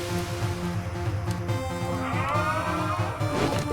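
Kitty companions in the game Dead Cells meow over a steady droning game soundtrack. The meows are small and mid-level and sit within the busy backdrop.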